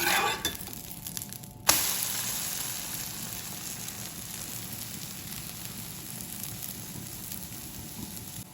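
An egg omelette sizzles steadily in a frying pan right after being flipped, a brief clatter of the turn followed by continuous close, moderate frying crackle.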